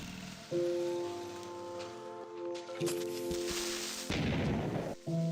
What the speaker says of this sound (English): The old explosion sound effect.